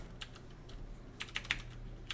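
Someone types on a computer keyboard at a terminal, with a few light isolated clicks early on and then a quick, close run of keystrokes.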